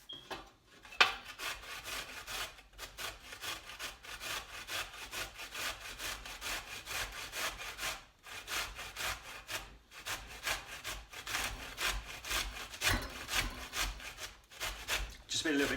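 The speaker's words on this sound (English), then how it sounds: "I have a grater, so I'm just going to grate the cauliflower." Cauliflower rubbed against a hand grater in a continuous run of rhythmic, scratchy rasping strokes, fairly close and moderately quiet, with short breaks between passes.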